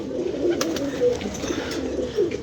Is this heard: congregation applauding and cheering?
no